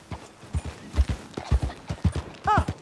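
Close, heavy horse hoofbeats in the video game Red Dead Redemption 2 thud in an uneven walking rhythm, ending with a short snort or whinny.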